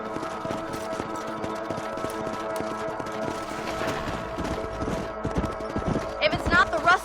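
Horses' hooves clip-clop at a steady walking rhythm in the Western video game Red Dead Redemption, close and continuous over a bed of ambient game music, with a voice speaking briefly and a few sharper accents near the end.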